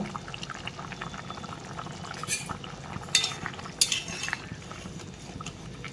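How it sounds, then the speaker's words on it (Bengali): Chopped coriander is stirred into a simmering fish curry in a pot, with soft liquid churning and scraping, and a few sharp clinks of a utensil against the pot rim near the middle. "আমি এর মধ্যে কুচানো ধনে পাতা দিয়ে দিচ্ছি দিয়ে ভালো করে মিশিয়ে নেব"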